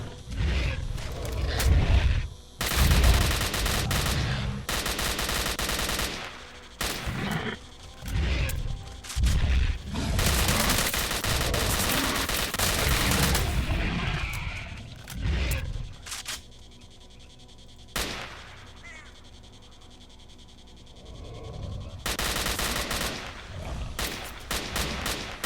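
Panicked gunfire in Stalker: Call of Pripyat, with loud, rapid shots coming in dense bursts over long stretches, broken by quieter pauses and fading to sparser firing toward the end.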